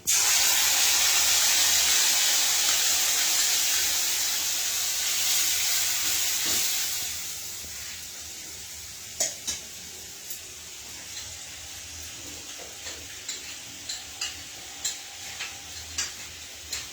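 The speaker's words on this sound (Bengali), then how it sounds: "এবার আমি টক দইয়ের পেস্টটাকে দিয়ে দিচ্ছি" Sour yogurt paste hits spices in a frying pan with a loud burst of sizzling hiss that fades over several seconds, then gives way to quieter crackles and scattered taps of stirring, close by, with no talking.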